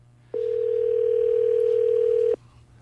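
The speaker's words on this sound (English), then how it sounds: "I'm going to dial it one more time." A telephone line gives a single steady tone lasting about two seconds, clear and close, with a faint low hum beneath.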